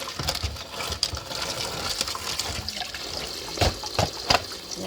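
Mung bean sprouts being washed by hand in water, with splashing, dripping and sloshing, a few sharper splashes and clinks, close and fairly loud, with no talk.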